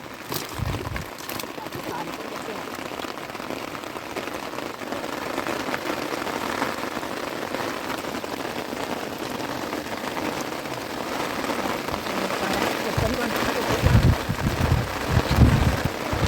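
Rain pours down during a fishing trip outdoors, a dense steady patter that swells louder toward the end, with scattered close drop impacts and voices talking beneath it.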